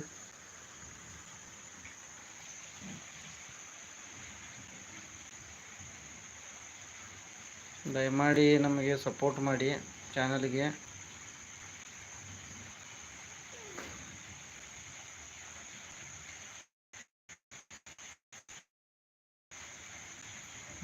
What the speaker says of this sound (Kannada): ಮಳೆ ಯಾವ ರೀತಿ ಬೀಳ್ತಾ ಇದೆ